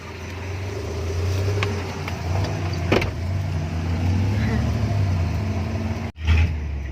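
A car engine runs at a steady, low hum just after being started, close by, with faint clicks and a brief dropout near the end, and people talking in the background.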